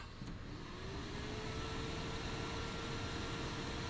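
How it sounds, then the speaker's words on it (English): The electronics circulation fan of an Itech RF-A250 PCB reflow oven gives a constant, even whooshing hum with a faint high whine, steady and fairly loud throughout with no speech. "the first thing you're going to notice is a fan"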